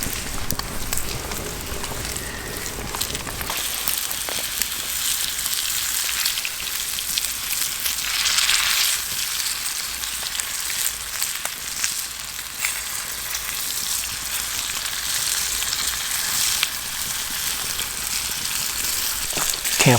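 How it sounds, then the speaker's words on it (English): Trout sizzles and crackles steadily in a hot frying pan at a wilderness camp, a continuous dense frying hiss with no talking. "I'm going to cook me up some fish using the frying pan"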